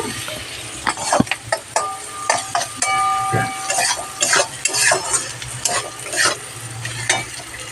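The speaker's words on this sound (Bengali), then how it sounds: "একটু লাল লাল করে ভেজে নেব" Food sizzles in a pan with salt and turmeric while a spoon stirs and scrapes in irregular bursts, with a brief clink and some background voices.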